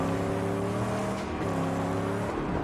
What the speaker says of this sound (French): j'ai déjà allumé la voiture